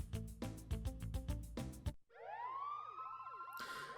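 Lab alarm in the Pokémon Colosseum game: a loud wailing siren with sweeping rising and falling tones that takes over after a burst of rhythmic game music, continuing alone to the end.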